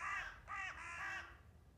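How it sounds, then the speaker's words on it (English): A crow caws three times in quick succession, harsh and fairly close, followed by quiet background. "Did you just hear a bird? I heard a bird."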